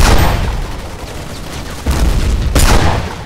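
A two-shot Pirate Gun fires in the Battlefield Heroes video game, with loud, close bursts and blasts layered over constant battle noise. Two distinct shot transients stand out near the end.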